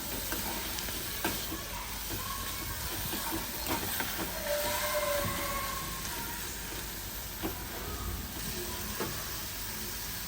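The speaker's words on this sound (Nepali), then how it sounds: "यसलाई मजाले चलाउँदै भुट्यो एकछिन चाहिँ" Frog meat frying with meat masala powder in a pan, a steady close sizzle and hiss with occasional faint stirring scrapes and ticks, continuous throughout with no voices.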